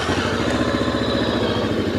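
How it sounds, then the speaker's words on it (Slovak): A 2021 Jawa RVM 500 adventure motorcycle with a twin-cylinder engine and stainless exhaust idles close by, a steady, even thrumming throb with a light mechanical clatter and no voices. "Motor si môžeme rovno kľudne s prehľadom aj naštartovať."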